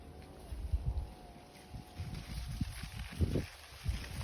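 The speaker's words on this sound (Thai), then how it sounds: "ลมพัดเย็นๆนะคะ" Wind blowing through a corn field on a cool day, with low, uneven gusts buffeting the microphone in soft surges and no talking.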